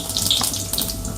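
Cumin seeds hit hot oil for tempering, sending up a bright, steady crackling sizzle, close and fairly loud, for a brief moment.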